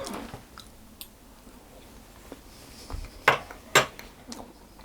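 Someone chews a bite of dense, moist spiced fig loaf cake with walnuts and caramel sauce, with soft mouth sounds, a few crunches and a couple of sharp clinks of a spoon on a plate.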